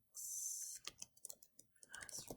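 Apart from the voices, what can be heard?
typing on a computer keyboard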